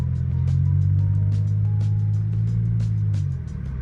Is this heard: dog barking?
no